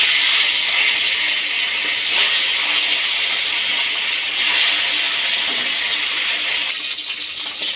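Turmeric-coated bata fish fries in hot oil, giving a steady, loud broad hiss with faint crackle. A brief surge comes near the start and another midway, and the sizzle eases slightly toward the end. No one speaks.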